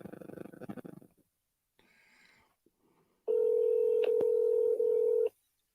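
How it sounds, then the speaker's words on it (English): A home telephone line ringing out on an outgoing call, a loud steady electronic tone held for about two seconds, preceded by faint muffled handling noise and a brief low murmur. "Let's try his home phone."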